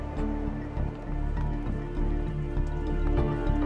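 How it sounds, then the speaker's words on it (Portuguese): Rain patters onto the leaves of a dense forest canopy, a close, busy mix of drips and taps over a low steady rumble, with no voices. "As folhas da densa floresta protegem as meninas da chuva."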